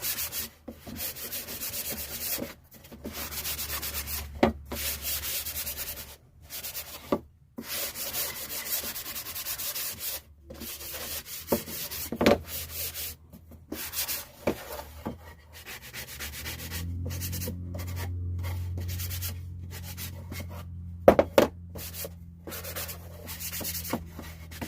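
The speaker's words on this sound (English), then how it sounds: "Just sand all the pieces we cut." Hand sanding of cut wooden frame pieces: steady close scraping and rubbing strokes with brief pauses between passes, continuing for a long stretch with occasional louder knocks and a faint low hum later on.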